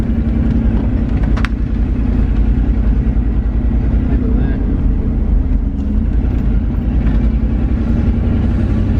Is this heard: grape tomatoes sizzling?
no